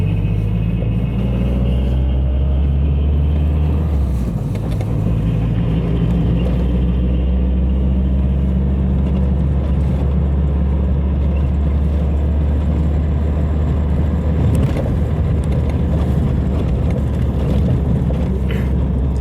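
Car driving along a freshly repaired road in Krolevets toward Haiovyi pond, a steady loud low rumble of engine and tyres with slight surges throughout.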